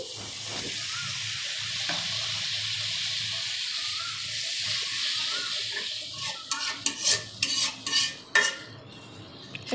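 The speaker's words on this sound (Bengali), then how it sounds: "এগুলোকে ভালো মতো কষিয়ে নিতে হবে" Spice mixture being stirred and fried down in a pan with a cup of water added while cooking a fish-head curry; steady close sizzle with a run of sharp utensil scrapes and clinks toward the end.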